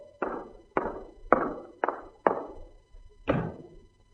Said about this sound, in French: Ruy Blas, fermez la porte